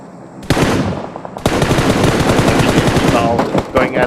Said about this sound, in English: He's just firing onto a lot of teams right now.